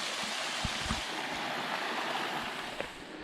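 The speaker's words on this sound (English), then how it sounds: "Pretty little waterfall." A small waterfall in Baxter State Park after a night of rain, a steady rushing wash of water close by with a few faint knocks and bumps.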